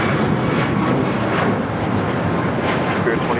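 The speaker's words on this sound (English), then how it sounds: "2667 taking off to Washington Dulles on the MAX 9" United Airlines Boeing 737 MAX 9 taking off at LAX, a loud, dense jet roar that holds steady and close for the whole stretch, with no pauses.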